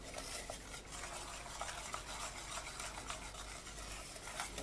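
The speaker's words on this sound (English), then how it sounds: "Just keep stirring." Popcorn being stirred with brown butter and cinnamon sugar in a pan, a continuous rough rustling and scraping with faint sizzle underneath, close and fairly quiet, no voices.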